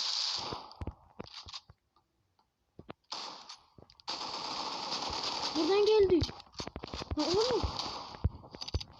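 Rapid gunfire crackles in the mobile shooter Critical Ops, coming in sharp, close bursts of repeated shots while players talk and shout excitedly over the game sounds.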